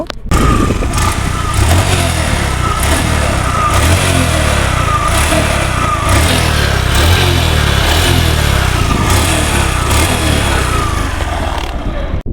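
A Suzuki Hayate motorcycle engine running close and loud, with a steady throbbing idle and repeated revving blips throughout.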